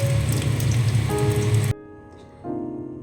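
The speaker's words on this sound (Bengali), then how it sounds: "বেগুনটাও কিন্তু একদম ডিপ ফ্রাই হবে।" Eggplant pieces deep frying in hot oil, a steady dense sizzle that cuts off abruptly, then a fainter crackle returns and picks up again.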